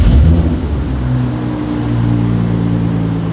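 A Toyota JZX100 with an HKS exhaust fires up from cold, a loud burst on startup settling into a deep, steady rumbling idle close by.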